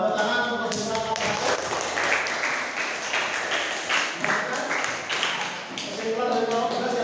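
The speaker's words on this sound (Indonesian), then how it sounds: "Tepuk tangan untuk kesimpulan" A vocational high school class in Indonesia claps for a group's closing summary, several seconds of steady classroom applause with voices and chatter mixed in throughout.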